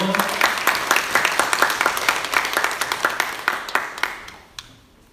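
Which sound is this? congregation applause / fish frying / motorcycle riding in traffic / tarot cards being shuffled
congregation applause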